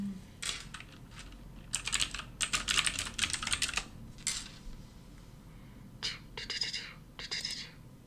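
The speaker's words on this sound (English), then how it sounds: "I have a clicky keyboard." Quick bursts of keystrokes clatter on a clicky computer keyboard, fairly close but soft, in uneven runs separated by short pauses.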